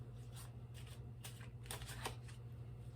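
A deck of tarot cards is shuffled for a reading in a quiet room, giving repeated soft riffling bursts over a steady low hum.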